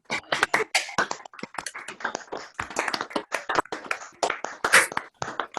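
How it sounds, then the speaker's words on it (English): Attendees of an online inaugural lecture clap after unmuting, a patchy, uneven scatter of individual hand claps from separate microphones, some bursts close and sharp, others thinner, overlapping irregularly. "if we all just unmute, just would like a round of applause"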